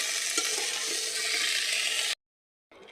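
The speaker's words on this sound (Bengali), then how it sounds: "এবার ভালো করে মিক্স করে নিতে হবে" Mixed vegetables, including pumpkin, being stirred with salt and chili powder in a hot pan for bhaji, giving a steady loud sizzle and hiss that cuts off abruptly before a brief return.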